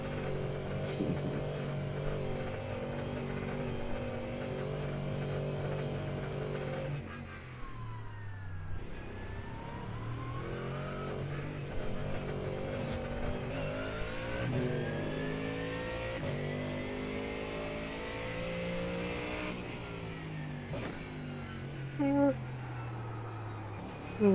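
A Mustang's engine revs and shifts through gears in a racing video game, its tone climbing and dropping repeatedly over a steady drone while people talk excitedly over it.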